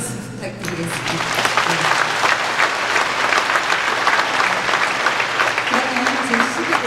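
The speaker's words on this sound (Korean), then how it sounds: "무대와 같은 박수 부탁드리겠습니다." Audience applause at a Korean art song concert, a steady dense clapping that fills the hall throughout, with a host's voice speaking faintly under it.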